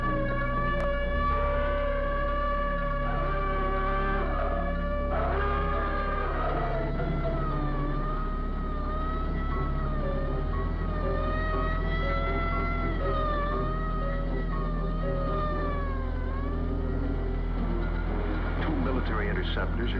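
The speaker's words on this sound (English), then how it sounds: "Sound a red alert." A red alert siren wails continuously at an air force base, its rising and falling tones sustained loudly throughout with a steady low hum beneath, while voices talk over it.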